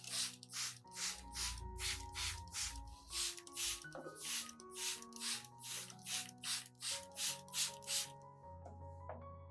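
A hand spray bottle mists an orchid with a potato peel solution in a rapid, regular series of about twenty short hissing spritzes, close and crisp, over soft background music.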